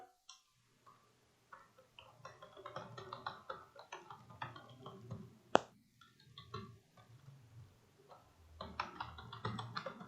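Computer keyboard typing, with quiet clicking keystrokes in irregular clusters and short pauses between them, close and soft, with no talking.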